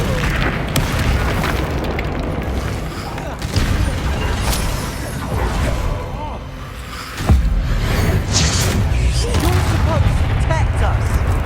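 A Bombarda blasting spell in the Hogwarts Legacy video game erupts amid dense, continuous combat: heavy booms and bursts layered with loud battle noise and shouting voices throughout.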